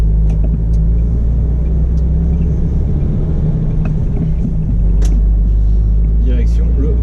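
Truck rolling down the road after loading pallets, a loud steady engine drone and road rumble filling the cab throughout, with a few faint clicks and rattles on top.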